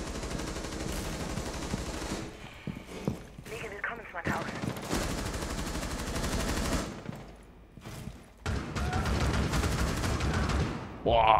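Gunfire from the Blackbeard operator in Rainbow Six Siege, loud repeated bursts of shots at varying distance mixed with game effects, with brief quieter gaps between volleys.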